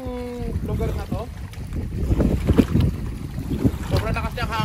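Strong wind sweeps over Jackfish Lake near Norman Wells, a steady low rumble buffeting the microphone throughout while people talk over it.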